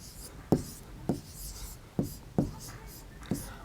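Someone writes a name by hand on paper in several sharp, distinct tapping strokes with short scratchy sweeps between them, close and quiet.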